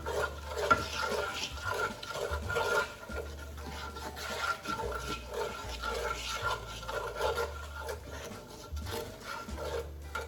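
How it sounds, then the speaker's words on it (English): Onions seasoned with salt and freshly ground pepper are stirred in an oiled pan, giving soft repeated scraping and shuffling strokes over a low, faint sizzle, close and without talk. "Add it to those onions. Give that a stir."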